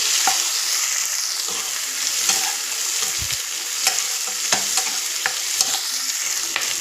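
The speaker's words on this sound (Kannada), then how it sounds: "ಒಂದು ಎರಡು ಟೊಮೆಟೊನ ನಾನು ಕಟ್ ಮಾಡಿ ಹಾಕ್ಕೊಂಡಿದ್ದೀನಿ ಒಂದು ಒಂದು ಐದು ಸೆಕೆಂಡ್ ಹತ್ತು ಸೆಕೆಂಡ್ ಫ್ರೈ ಮಾಡ್ಕೊಳ್ಳಿ ನೀಟಾಗಿ" Chopped tomatoes fry in a pan, giving a steady close sizzle broken by repeated scraping and tapping stirring strokes, loud and continuous with no talk.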